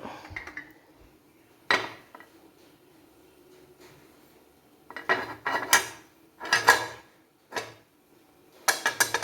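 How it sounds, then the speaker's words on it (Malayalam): Metal idli plates clatter and clank as a stacked plate is set into a steamer pot, with sharp clusters of metallic knocks between quiet gaps, close by with no talk. "ഇനി നമുക്കിതിൻ്റെ മുകളിൽ അടുത്തതും കൂടെ വയ്ക്കാം"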